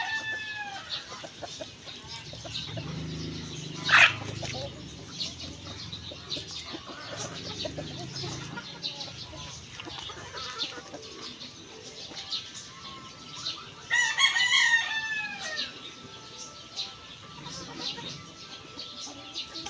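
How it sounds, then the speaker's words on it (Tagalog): Chickens cluck and murmur softly at a distance, with a brief louder squawk and scattered calls over a quiet outdoor background. "Parang gusto lahat ni Uno kuhain yung mga manok"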